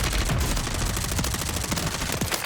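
Dense, rapid gunfire with distant airstrike blasts in a Call of Duty match, a continuous loud crackle of overlapping shots running through the whole stretch without pause.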